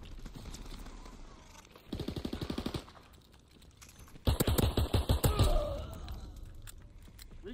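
Reactive SMG fire in Call of Duty WW2 comes in two rapid bursts: a short rattle first, then a louder, longer stream of fast shots, with quiet stretches between.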